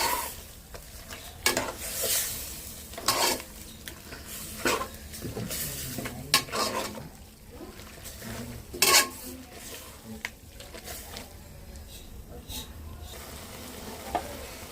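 Meat pieces for a Telugu boti curry stirred with ginger-garlic paste in a pan, soft sizzling under repeated scrapes and clinks of a spoon against the metal, fairly quiet and intermittent.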